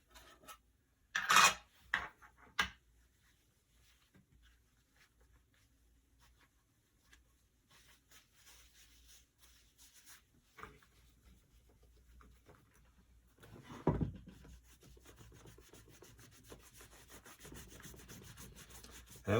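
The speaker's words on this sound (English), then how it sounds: "Now we're going to apply some wax." Wax is rubbed by hand onto leather boots after shoe cream, giving soft, faint scrubbing strokes in short bursts early on, then quieter intermittent rubbing and a louder swipe near the middle.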